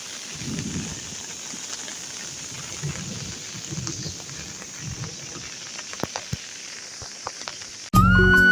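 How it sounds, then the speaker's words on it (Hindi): Heavy rain pours down in big, fat drops, a steady close hiss with scattered heavier splats, cut off near the end by an abrupt loud burst of a different sound. "और इतनी मोटी मोटी बूंदें गिर रही हैं पानी की।"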